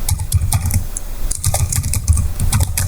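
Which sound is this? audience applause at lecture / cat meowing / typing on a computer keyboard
typing on a computer keyboard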